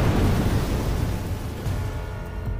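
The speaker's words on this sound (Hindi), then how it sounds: "जैसे ही माला उसके शरीर पर पड़ी एक तेज धमाका हुआ" A loud explosive blast in a Hindi horror story, a deep rumbling boom that fills the low end and rolls on steadily for a few seconds before fading slightly.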